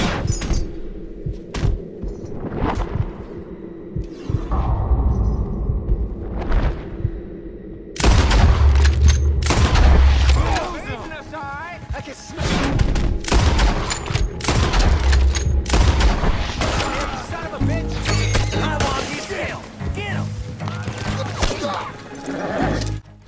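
Video game shootout gunfire among tall trees near Manzanita Post: scattered shots at first, then dense, loud overlapping gunshots with heavy booming impacts and someone talking throughout.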